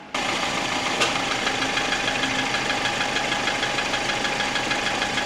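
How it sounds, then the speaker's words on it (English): An idling Jeep engine with a steady, rattling clatter from the timing chain, close and constant, a tractor-like metallic ticking running throughout. "once it idles down, you might notice it kind of has a clattery sound like a tractor."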